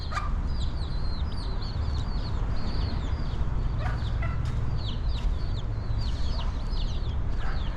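Roosters and chickens cluck and chirp repeatedly at moderate distance over constant outdoor street background noise in Ybor City, Tampa, Florida, with other birds calling intermittently.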